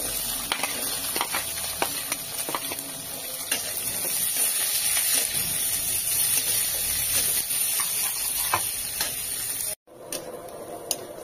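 Green chillies frying in hot oil in a pan give a loud, steady, close-up hiss and crackle that runs unbroken, cuts out for a moment near the end, then resumes.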